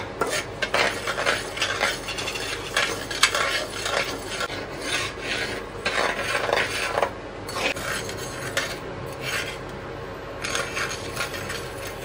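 Semolina dry roasted in an oil-free pan, a spatula scraping and stirring with a continuous gritty rasp in uneven strokes, close and fairly loud, with no talking.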